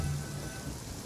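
Rain falling in the Genshin Impact video game, a steady close patter on surfaces, with a faint low rumble under it.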